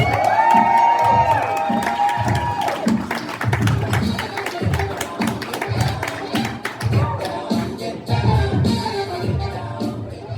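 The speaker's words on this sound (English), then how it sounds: "Big, resounding, warm round of applause to our first comedian tackling the second half of comedy" A comedy-show audience bursts into cheering and clapping to welcome a comedian, a loud, steady wash of crowd noise with scattered whoops and shouts.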